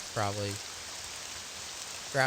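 Steady rain in the game Morrowind hisses softly and evenly throughout, a faint continuous wash with someone speaking briefly over it at the start and end.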